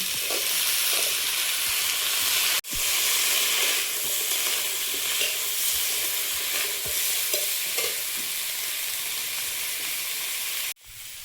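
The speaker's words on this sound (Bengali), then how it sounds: "আলুটা ভেজে নিয়েছি, এবারে লাউ শাকের দানাটা দিয়ে আর একটু ভেজে নেব।" Fried potato and bottle gourd greens sizzle loudly in a pan, a constant close hiss with occasional stirring clatters and two sharp knocks.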